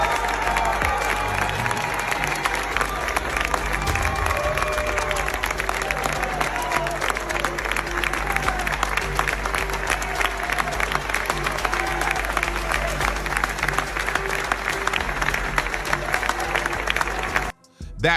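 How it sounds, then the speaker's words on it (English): A crowd at the Heisman Trophy ceremony applauds steadily, dense clapping from many people sustained for about seventeen seconds with scattered cheers and murmuring underneath, ending abruptly. "Everyone around him was standing and clapping"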